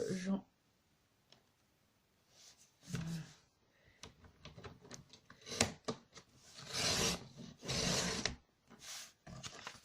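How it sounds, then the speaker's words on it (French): A paper guillotine slicing the bottom edges off envelopes, heard as a few rasping, rubbing cuts in bursts, with a longer, louder stretch near the end, close by and mixed with some talk. "mon massicot et je vais venir découper les fonds de mes enveloppes"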